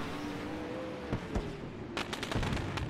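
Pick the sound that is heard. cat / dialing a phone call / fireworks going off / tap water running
fireworks going off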